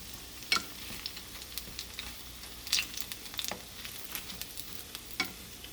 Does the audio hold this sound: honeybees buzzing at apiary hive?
no